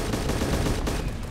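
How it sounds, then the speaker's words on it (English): Dense gunfire in a military combat video game, loud continuous bursts of overlapping shots filling the whole moment without a break. "Under heavy fire!"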